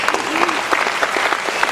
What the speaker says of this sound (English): So give these guys a big round of applause